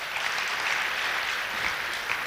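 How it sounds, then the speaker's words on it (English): Audience applause at a live roadshow event, a steady wash of clapping from a crowd that holds evenly throughout with no voices over it. "let's give her another round of applause"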